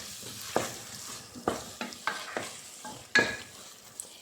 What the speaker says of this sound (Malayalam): ഞാനിതിലേക്ക് 3 സ്പൂണ് തൈര് ചേർത്ത് കൊടുത്തിട്ടുണ്ട്. അപ്പോൾ അത് നന്നായിട്ടൊന്ന് ഇളക്കി കൊടുക്കണം.